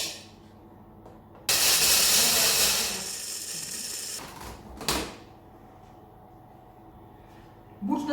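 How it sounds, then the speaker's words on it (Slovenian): Pumpkin seeds ground in a small electric grinder: a loud whirring burst of about a second and a half that fades, then a short second pulse, with quiet gaps around it. "Najprej bomo sesekljali oziroma zmleli bučna semena."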